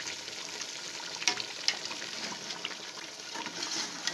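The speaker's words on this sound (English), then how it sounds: "I'll also stir the pot." Omuguo stew is stirred in a steaming pot, producing a steady bubbling, sizzling wash with a few brief scraping clinks from the spoon, close by and fairly quiet, with no talking.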